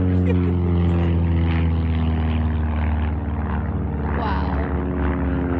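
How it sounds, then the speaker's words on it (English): Four stunt planes fly loops through a valley in remote Utah, their engine drone loud and continuous throughout, a steady throbbing roar that swells slightly near the end with no voices over it. "There are 4 planes that come flying through the valley and they're doing these loop-de-loop flips through the air."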